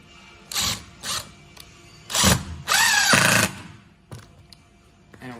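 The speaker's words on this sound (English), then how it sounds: "You drill a hole and you get your screw" A screwdriver drill driving a screw into a wooden coat rack, close and loud, with several short whirring bursts, then a longer buzzing run that rises in pitch under load before stopping, followed by faint clicks.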